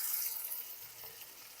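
Beef mince hitting browning garlic-ginger paste in a pan gives a soft, steady hissing sizzle, fairly faint and even, with no voices over it.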